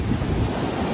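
Stormy surf pounds the rocks on Koh Samui, Thailand, in a brief, loud rush of crashing water and wind noise close to the microphone.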